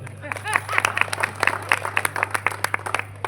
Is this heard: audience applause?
yes